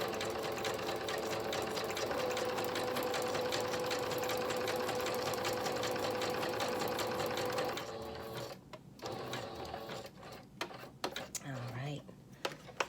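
A sewing machine stitches fabric in a steady, loud, continuous whir for about eight seconds, then stops, leaving quieter handling and shuffling sounds.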